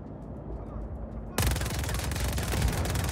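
Gunfire in the video game Just Cause 4 bursts in abruptly as rapid, loud automatic fire, a dense rattling stream that continues to the end after a quieter rumbling lead-in.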